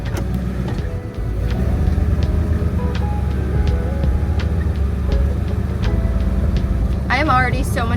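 A steady low rumble of a truck driving on the road, loud and close throughout, with a voice talking faintly over the engine noise.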